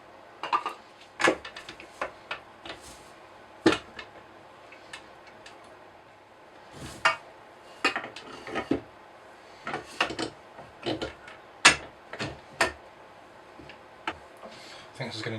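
Wooden piano stool parts knock and clack together during a dry-fit assembly, a series of close, sharp wooden taps and thumps in irregular bursts, with a voice talking at times.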